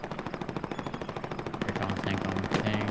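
Machine gun fire in the video game Hell Let Loose, a rapid steady burst of fairly quiet, distant-sounding shots that keeps going through the clip, with louder battle noise near the end.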